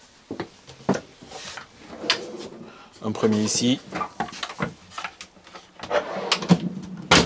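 Kitchen drawers in a Bavaria 696S camper van slide open and bump shut in short wooden knocks and rolls, close by, between steady French conversation.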